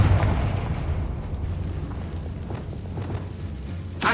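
A Confringo blasting spell exploding in Hogwarts Legacy, a heavy low boom that rumbles and fades over several seconds, followed by a sharp new burst at the very end.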